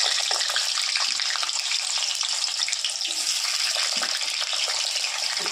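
Food frying in hot oil in a pan for a chickpea and puri dish, a steady dense sizzle with crackling throughout, close and fairly loud, no talking.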